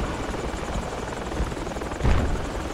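Helicopter in the military video game Project Reality, a continuous rotor chop and engine buzz with a louder thump near the end, at moderate distance.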